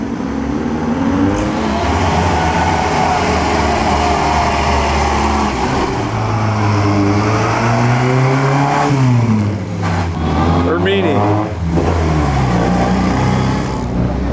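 Vintage cars on the 2009 Mille Miglia, a BMW among them, idle and rev slowly into a checkpoint, with loud close engine burble and several rising and falling revs as cars pull through.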